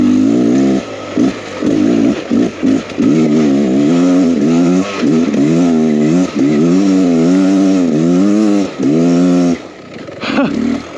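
A 2023 Beta XTrainer 300 two-stroke enduro motorcycle revs loud and close on a trail, the engine rising and falling in rapid throttle bursts, with a brief drop near the end.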